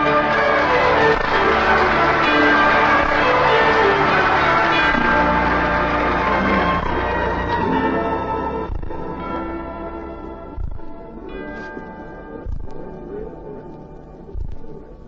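A bell ringing at a Liberty Bell dedication on an old-time radio comedy show, sounding as a loud, reverberant tolling wash that fades into a series of spaced, deep thumping strikes.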